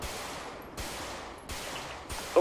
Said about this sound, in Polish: Ogień zaporowy robię.